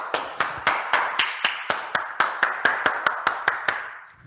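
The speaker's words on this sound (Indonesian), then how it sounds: "langsung saja tepuk tangan untuk Cak Lontong" Audience applause at a company closing ceremony for a national workplace safety month, heard as a sparse, rhythmic run of distinct hand claps, fairly close and loud, fading at the end.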